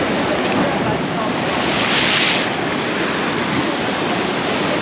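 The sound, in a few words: ocean waves crashing on rocks at surf break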